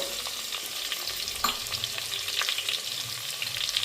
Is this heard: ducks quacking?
no